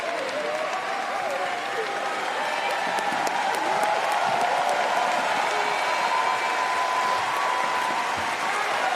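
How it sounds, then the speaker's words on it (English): Crowd applauding inside La Chapelle Arena after a para badminton mixed doubles SL3 SU5 gold medal match, a dense, steady wash of clapping and cheering that holds for the whole stretch with faint voices under it. "a real reaction from the crowd inside La Chapelle Arena"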